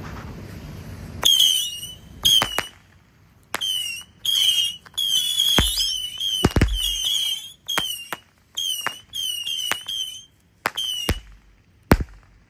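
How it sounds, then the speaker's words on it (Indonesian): A Patriot Missile 25-shot firework cake set off outdoors during Ramadan festivities, firing a rapid irregular series of shrill whistling rockets, each launch a sharp whoosh followed by a rising whistle, with brief gaps between bursts of shots. "di sini ada Patriot Missile 25 shot bosku. Sudah menyala."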